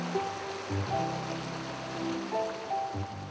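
A cold mountain stream pours down like a shower in the Shikahogh reserve in Armenia, a steady, close rushing and splashing of water with faint low hums and no talking.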